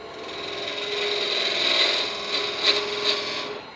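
A wood lathe parts off a turned wooden wand, giving a steady scraping, rasping cut with a whirring hum that slowly builds. Several sharper scratchy bursts come near the end, and there is no speech.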